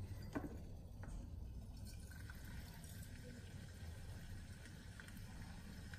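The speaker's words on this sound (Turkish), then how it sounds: "Ve hazırladığım kolayı bunun içerisine ekliyorum." Homemade cola poured through a funnel into a bottle, with a soft, steady liquid trickle and faint fizz running throughout. Occasional small clinks of glass sound close by, and the whole sound sits at a low level.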